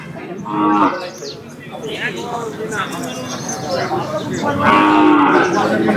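Native cattle lowing at a busy village cattle market, with several loud moos rising over steady crowd chatter and people talking nearby.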